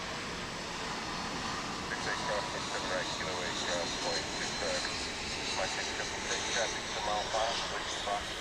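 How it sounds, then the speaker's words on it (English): An airliner rolls past at DFW International Airport, a broad steady jet engine roar heard from outside, with voices talking faintly over it. "As it goes by the flight that just came in from Seoul."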